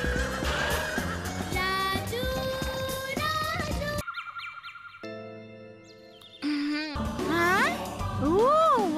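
Cartoon horses in Chhota Bheem give several loud, shrill whinnies one after another, some rising and falling in pitch, with faint hoof clip-clops mixed in.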